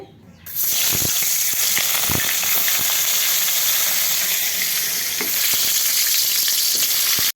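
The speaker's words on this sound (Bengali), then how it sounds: "দুই দিকে দুটো কড়াই বসিয়ে দিয়েছি একদিকে দিব এখানে মাছ ছেড়ে দিকে দিব বেগুন ভাজি ছেড়ে" Fish and eggplant fry in oil in two pans, starting with a sudden loud hiss that settles into a continuous, close, crackling sizzle with a few faint clinks.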